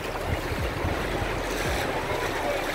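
Sea waves wash ashore at Praia do Forte beach in Cabo Frio, a steady roar of surf mixed with heavy wind buffeting the microphone, continuous and close.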